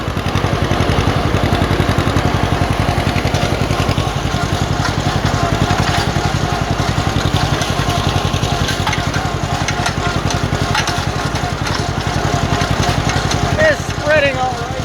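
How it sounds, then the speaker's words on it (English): A tractor pulling a manure spreader runs steadily and loudly throughout, a continuous engine drone with mechanical clatter and rattling from the spreader, close and unbroken for the whole stretch. "It's spreading all right, I guess."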